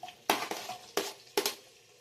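Onion pieces frying in butter and oil in a pan while cooking a Kashmiri paneer curry, close sizzle broken by three or four sharp clinks and scrapes of a utensil stirring against the pan.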